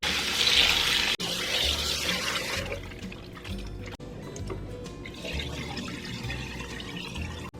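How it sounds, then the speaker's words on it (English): Tap water runs steadily into a sink, rinsing baking soda off sliced beef, with a brighter splashing gush at first that settles into a quieter continuous flow and faint drips. "Now it's time to rinse out the baking soda."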